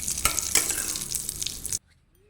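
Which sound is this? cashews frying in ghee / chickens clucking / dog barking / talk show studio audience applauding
cashews frying in ghee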